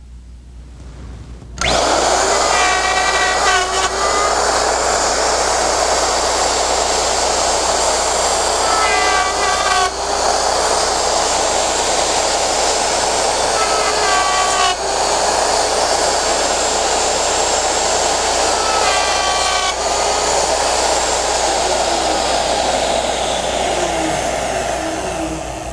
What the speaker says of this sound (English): carefully guide the router in the template fork slots to cut the tails on the tailboard